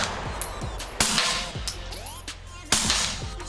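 Suppressed shots from a Springfield Armory XD-M Elite Tactical OSP pistol fitted with a Hybrid 46 suppressor and firing 158-grain subsonic ammo: two sharp, muffled cracks about two seconds apart, with clinks and handling noise between them.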